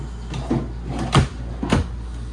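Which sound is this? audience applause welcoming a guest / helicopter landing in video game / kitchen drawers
kitchen drawers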